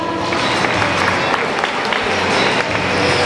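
Audience applause and crowd noise at a children's drawing contest award during a Piñata Sunday festival, a dense, steady wash of clapping filling the whole moment with a murmur of voices beneath.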